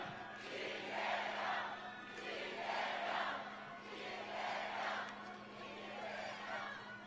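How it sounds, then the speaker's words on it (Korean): A rally crowd cheers and chants in rising swells for a presidential candidate in Namyangju, Gyeonggi, a dense roar repeating in waves with a steady hum underneath. "뜨거운 박수 함성으로 맞아주십시오."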